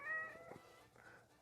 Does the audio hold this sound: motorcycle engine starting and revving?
no